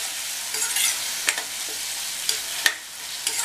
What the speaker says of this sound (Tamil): அரைச்ச விழுதெல்லாம் சேர்த்ததுக்கப்புறமா சிம்மில் வச்சு 2 நிமிஷம் போல் வதக்கணும்.